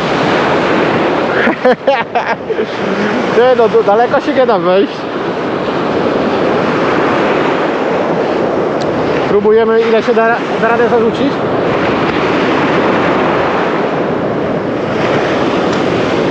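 Sea surf rolls and washes continuously along a shore where someone is fishing from the beach, heavy and steady under gusty wind, while someone talks over it at intervals.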